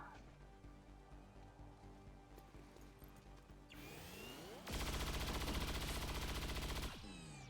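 Overwatch gunfire in XCOM 2 Long War of the Chosen, a swelling whoosh that erupts into a dense, loud burst of rapid automatic shots lasting a couple of seconds before cutting off.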